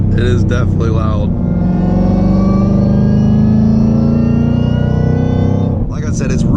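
A supercharged Roush Mustang engine revs hard and holds for several seconds, a loud rising supercharger whine riding over the deep engine roar before dropping off, with voices heard briefly at the start and end.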